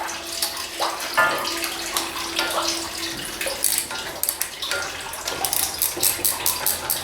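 Fluid trickles and splashes from behind the water pump of a Ford 800 tractor engine during a cylinder head removal, a steady nearby pouring sound with a few small metallic clinks.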